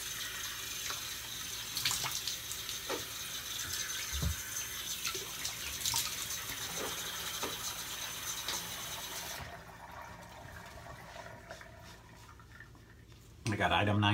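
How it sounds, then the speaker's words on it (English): Cold tap water runs steadily into a bathroom sink while a razor is rinsed under it, a continuous hiss with brief clinks, then quieter and cut off with a thump near the end. "And then to rinse off, I use some cold water."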